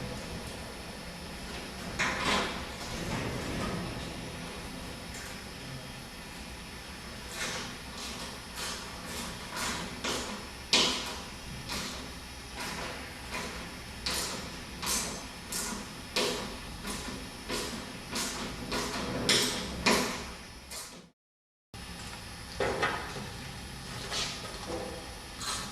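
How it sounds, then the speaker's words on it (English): Small hand ratchet driving hex-head bolts with an 8mm or 10mm socket, a quiet run of rapid clicking pawl ticks in uneven bursts, close but faint against a low room hiss. "We're using a small ratchet"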